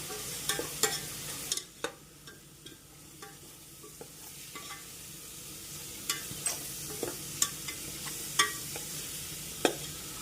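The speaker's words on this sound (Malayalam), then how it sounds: "ഇനി മല്ലിപ്പൊടി ഇട്ട് കൊടുക്കാം അത് നന്നായിട്ട് മിക്സ് ആക്കി കൊടുക്കാം" Coriander powder is stirred into a sizzling beef masala, with repeated sharp scrapes and clicks of a spoon against the pan over a continuous soft frying hiss.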